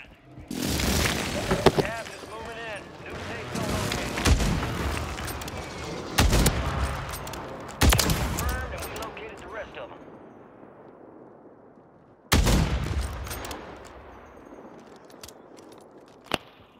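Gunfire in the game Warzone 3, with sharp shots and booming reports repeating at irregular intervals over a busy in-game soundscape, while players talk throughout.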